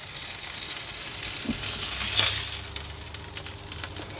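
Beef burger patty topped with melting yellow cheese frying in a pan, a steady close sizzle with light crackle throughout and a few soft scrapes near the middle.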